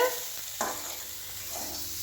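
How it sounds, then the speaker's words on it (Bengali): Bitter gourd and eggplant fry in a pan with a soft, continuous sizzle and a clunk of stirring near the start, heard up close and alone. "এই যে উচ্ছে বেগুন ভাজা করছে।"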